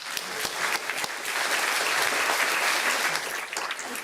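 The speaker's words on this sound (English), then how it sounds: "I'd like to end on just giving a round of applause to Ken Buckles." Audience applause at a 30-year celebration honoring a veteran, several seconds of dense clapping with a few sharp individual claps at the start and end.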